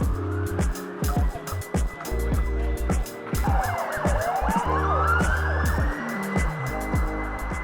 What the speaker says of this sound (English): Ambulance in the background, bit of colour.